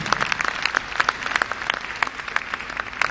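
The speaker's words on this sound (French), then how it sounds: "Merci d'applaudir très fort" An audience at the Écrans Noirs film festival closing ceremony applauds an award presentation, a steady, dense clapping that stays strong and even throughout.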